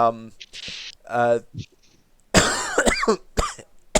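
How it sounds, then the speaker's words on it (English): Several short, harsh coughs break out close by, mixed with bursts of speech and a throaty clearing sound. "he just starts coughing and grabbing a Strepsil quick"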